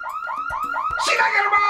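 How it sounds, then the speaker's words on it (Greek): A car alarm sounds, with repeated rising electronic whoops in a steady rhythm, then a harsher broadband blast. It is loud and close, in a Greek-language TV crime series scene. "Συναγερμό!"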